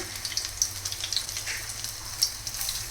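Crushed garlic cloves sizzle in hot oil, a soft, steady crackle with scattered pops, quiet and close, with no talking.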